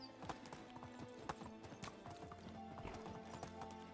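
Horse hooves clip-clopping in the medieval video game Medieval Dynasty, a steady rhythmic run of hoofbeats with occasional whinnies over a busy game soundscape.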